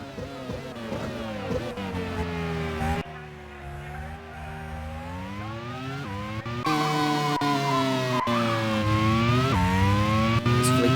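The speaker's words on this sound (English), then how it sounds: "There's Rosenqvist coming through to complete his 53rd lap" Race car engines at the Montjuïc Grand Prix in a racing game whine loudly, their pitch rising and falling as they shift gears and sweep past, with a brief quieter dip before the roar returns stronger.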